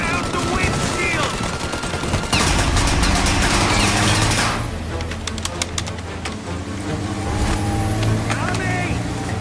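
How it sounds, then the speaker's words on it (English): Gunfire rattles at a car windshield in Mafia Definitive Edition, sharp bursts of shots over vehicle engine noise, loud and close, with voices shouting over the action. "The windshield! Shoot out the windshield!"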